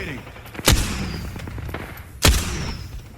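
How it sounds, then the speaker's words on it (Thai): Apex Legends gunfire: two sharp, loud shots about a second and a half apart, each with a booming low tail, over a busy game background with faint distant shots. "มันยิงกันแล้วมันยิงกันแล้ว"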